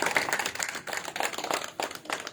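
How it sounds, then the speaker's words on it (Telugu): Audience at a meditation discourse applauding the organizers, a burst of hand claps in uneven, overlapping bunches at moderate loudness, fairly close and without speech. "అలాగే మనకి ఇంత చక్కటి అవకాశం కల్పించిన ఆర్గనైజర్స్ గట్టిగా చప్పట్లు కొడదాం"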